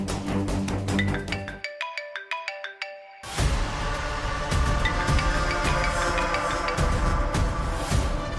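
A mobile phone rings with a melodic ringtone: a tinkling tune, a short pause, then a louder, fuller stretch of the ringtone playing continuously and close by.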